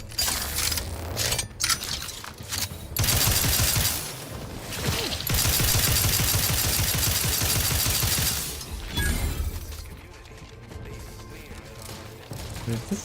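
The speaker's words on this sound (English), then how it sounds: "What is this guy shooting?" Gunfire from The Outer Worlds 2 on the hardest difficulty crackles in bursts and dense rattling volleys, with mechanical clanks and crashes between, loud and continuous for several seconds before thinning out.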